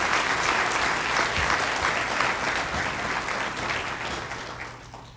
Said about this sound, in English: One more round of applause, please, as they exit the stage.